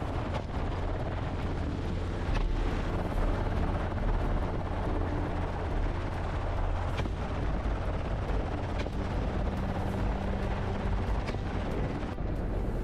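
Helicopter rotor over thick grassland during a wild hog hunt, a steady loud low-frequency thrum filling the whole stretch with occasional sharper bangs like distant gunshots mixed in.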